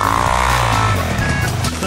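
Car engine revving hard in the snow, a loud, close, throaty roar that holds steady and then shifts in pitch as the engine strains, filling the whole moment.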